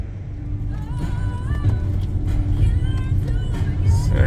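Car cruising back into the town of Dorrigo, a steady engine and road rumble that grows slightly louder, with faint background voices and chirps over the top.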